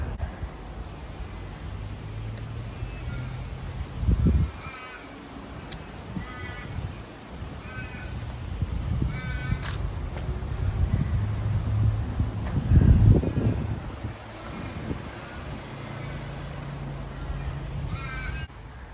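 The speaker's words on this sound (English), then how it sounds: "The old magpies are getting a bit sick here at the moment." Magpies calling outdoors near a historic farm, a few harsh chattering caws rising at intervals over a steady background hiss of wind and distant rumble, moderately far off.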